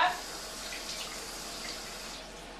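A kitchen tap runs steadily as something is rinsed under it, a soft, even hiss of flowing water lasting a few seconds.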